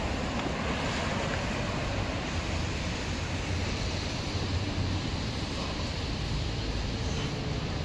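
Heavy rain pours on a Los Angeles street, a faint, dense, steady hiss of falling water with a low rumble underneath and no talk.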